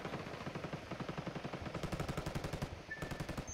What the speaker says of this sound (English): Mortaring the tower.